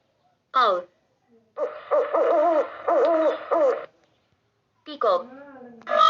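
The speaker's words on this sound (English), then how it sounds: "Owl." Owl hooting, a short call followed by a long series of hoots, then a louder trailing call, close and clear against silence.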